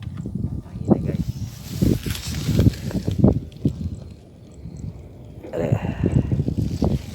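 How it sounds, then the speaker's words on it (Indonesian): Outdoor wind gusts buffet the microphone while fishing for tilapia, giving a loud, rumbling rush that swells and drops over several seconds, with some rustling handling noise mixed in. "Angin."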